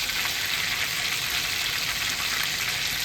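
Cumin seeds, dried red chillies and bay leaves frying in hot oil, a steady, close, bright sizzle that holds constant without pause.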